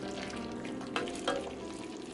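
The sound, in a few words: stirring pork and chicken adobo frying in pan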